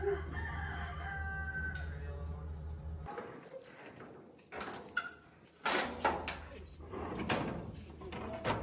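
Black rooster crowing on a farm, a clear drawn-out crow at first, followed by louder clattering knocks and bumps nearby.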